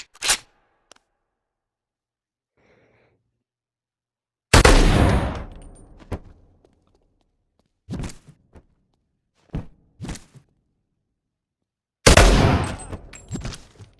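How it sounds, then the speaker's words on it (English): Video game shotgun blasts come in loud, separate bursts, two big booms a few seconds apart with a few shorter thumps between them and quiet gaps in between. "Everyone's gonna be favorite, the shotgun. Let's see, I can shoot him far."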